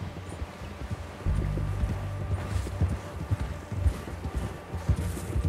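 Horse hooves clip-clop at a steady trotting rhythm in Red Dead Redemption 2, close and clear, with a low rumbling backdrop.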